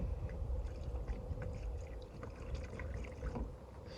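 Vinegar is poured into a cast iron pan, a faint low liquid gurgle and splash running steadily for a few seconds with no talking.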